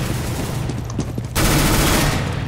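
Gunfire in the video game CS:GO, a dense, loud, sustained burst of rapid automatic shots that grows louder partway through, with no talk.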